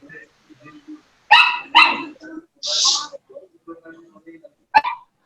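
A puppy gives several short, sharp yips and barks in quick bursts, close and loud, with faint indoor background between them.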